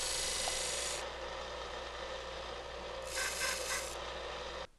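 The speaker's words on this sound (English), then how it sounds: "This sander features a 1-inch wide belt, providing access to interior corners and greater precision with small workpieces." A belt sander with a narrow 1-inch belt steadily rubs and rasps against a small workpiece, fairly faint, with two brief brighter bursts of abrasion.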